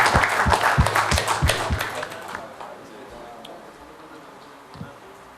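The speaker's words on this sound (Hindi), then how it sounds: "तो प्लीज़ तालियों के साथ वेलकम कीजिए" Audience at a national conference session applauding to welcome a team: a burst of loud, sharp hand claps for about two seconds, then fading into quiet room tone with a faint thump near the end.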